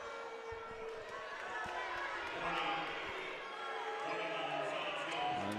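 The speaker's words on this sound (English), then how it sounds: "you can hear the collective boos here" A high school basketball crowd boos a foul, a sustained, fairly distant roar of voices with a few court thuds and squeaks underneath, steady across the whole stretch.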